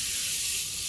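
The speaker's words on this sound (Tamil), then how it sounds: "இப்போ வெண்ணெய் சேர்த்துக்கலாம்." Butter sizzles in a hot pressure cooker for Bangalore-style butter chicken, giving a brief, steady, bright hiss close up.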